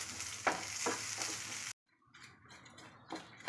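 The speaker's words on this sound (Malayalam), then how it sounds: "ഇളക്കി കൊടുക്കുക." Grated coconut, curry leaves and dried red chillies fry in a pan for koottucurry while being stirred, a soft sizzle with scraping strokes. It drops out briefly, then returns quieter with light clinks.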